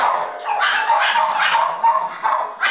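Several dogs bark and yip close by in quick, overlapping bursts, with a few higher whimpering calls mixed in.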